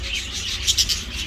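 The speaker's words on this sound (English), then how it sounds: "Got a lot of birds." A crowd of birds inside an enclosed bird house chirps and twitters in a steady, dense chorus, with a few brighter close calls rising over low ambient rumble.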